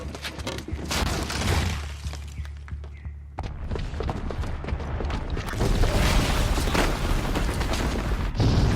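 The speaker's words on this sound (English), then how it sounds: "the booby trap on the bomb downstairs is gonna get set off" A booby-trapped bomb goes off in the game Horizon Zero Dawn: rumbling booms and shattering debris crash in waves. There is a brief lull, then a louder, sustained roar of destruction.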